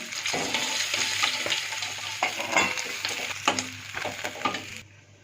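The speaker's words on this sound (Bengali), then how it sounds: "ওই তেলে দিয়ে দিচ্ছি ফুলকপিগুলো।" Cauliflower florets, soaked in salt water, go into hot oil in a pan after fish was fried, producing a loud, continuous sizzle with stirring clatter that cuts off abruptly at the end.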